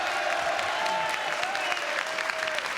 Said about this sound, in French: Madame Paulet, applaudissements pour Madame Paulet.